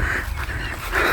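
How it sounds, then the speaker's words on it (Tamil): Loud, harsh honking calls from waterfowl close by in the wild near Madurai, overlapping in a short continuous burst. "பறவைங்க குருவிங்க கத்துற சவுண்ட்லாம் கேட்குதா"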